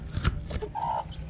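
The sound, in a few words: chickens and rooster clucking on a farm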